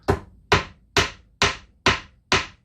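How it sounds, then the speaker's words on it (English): Six evenly spaced hammer blows driving a nail into a wooden beehive frame, sharp close knocks roughly every half second with no talk. "Now I'm gonna hammer this down."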